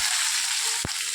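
Mustard seeds crackle and sizzle in hot oil while tempering for a Tamil mutton and broccoli dish, a steady dense hiss with one brief low thump near the end.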